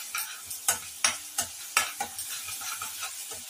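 Masala for a jackfruit curry sizzling in hot oil while a spoon stirs it in regular scraping strokes, a steady quiet fry broken by about nine distinct close stirring scrapes, with no voices.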